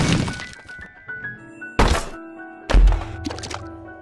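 Bombs going off in The Binding of Isaac: Rebirth make two heavy, booming blasts a second apart, set among sustained electronic game tones and softer thuds.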